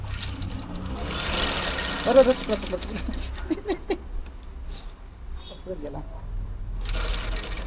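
A sewing machine stitches a very fine, narrow fold in fabric, its rhythmic mechanical chatter running steadily beneath people talking close by.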